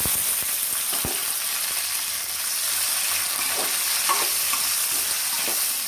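Onions, green chillies, tomatoes and okra fry in a pan, giving a constant loud close sizzle with occasional spoon taps and stirring clicks.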